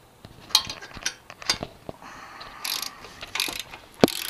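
A ratchet tightens the exhaust pipe bolts on a Yamaha FZ6R motorcycle, making quick bursts of clicking at close range, with short pauses and a few metallic knocks between them.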